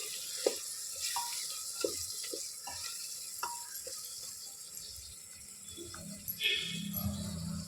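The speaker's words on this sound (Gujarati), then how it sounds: "આ બટેટાની ચિપ્સ નાખી દઈશું અને તેને પણ ધીમી આંચે આપણે હલાવી લઈશું" Potato chips are stirred in a pan over a low flame in a garlicky cluster-bean dish, producing a faint, steady sizzle broken by soft, irregular clacks of the spoon.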